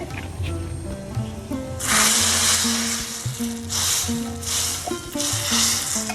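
Golden-fried garlic and dried chili tempering poured into musur (red lentil) dal, bursting into loud hissing sizzles in several surges, close and bright over steady background music.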